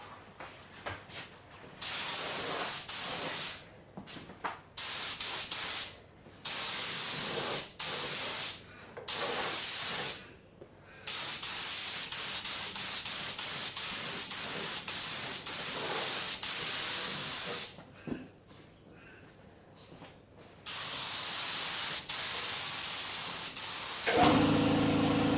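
Spray gun applying a first coat of paint under a car during an XC Fairmont 351 restoration, giving loud hissing bursts of varying length with short pauses between, close by.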